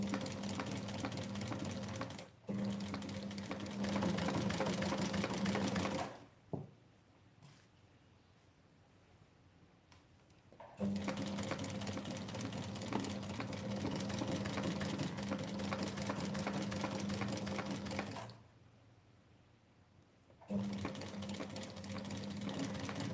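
A sewing machine runs through fabric in long steady bursts, stopping twice for a few seconds of near quiet before resuming, close and fairly loud.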